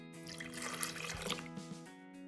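Water poured from a one-cup measure into a mixer jar that already holds an egg, the start of a batter for elanji. A steady, soft pour runs for about two seconds over a constant tonal background.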